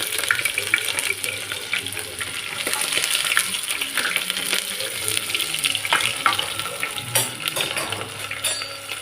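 Onions frying in oil in a cooker with spices, a steady moderate sizzle broken by occasional metal clinks and scraping from stirring.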